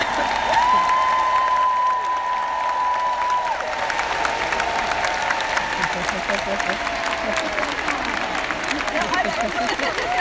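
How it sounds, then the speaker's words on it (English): Round of applause for sales, recruiting and leadership achievers at a large live corporate event in Orlando, Florida, with dense crowd clapping and scattered cheers filling the hall for the full stretch as a loud voice speaks over it. "stand and give a big wave so that we can give you a round of applause"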